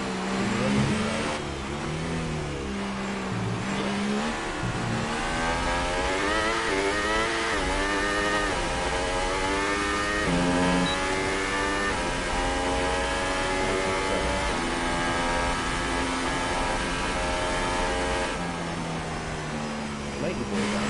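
Race car engine in the F1 2018 video game during an F2 league race in Spain, a steady loud high-pitched whine with shifting pitch and slight stuttering, running continuously under commentary voices.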